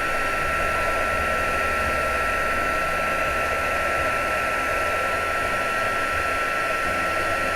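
A heat tool blows steadily over embossing powder melting on a card, a constant, even whooshing hum with no change in level from start to finish.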